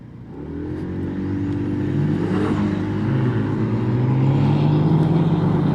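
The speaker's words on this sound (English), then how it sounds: "I've got a BMW next to me revving his engine" A BMW's engine revs beside a 125 scooter at traffic lights: a loud, close, throaty drone that climbs steadily in pitch and volume, with no talking.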